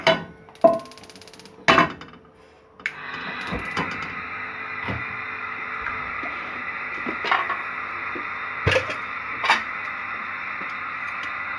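A stove is lit for cooking potato bhujia: a few sharp clicks and knocks, then a steady, fairly loud burner hiss that keeps going with small clatters of kitchen handling and no talk.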